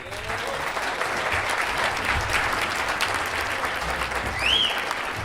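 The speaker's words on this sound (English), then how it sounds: "Once again, a round of applause for Miss Marshall, please." Sustained audience applause in a hall during an athletic hall of fame induction ceremony, steady and dense crowd clapping throughout, with a brief whistle near the end.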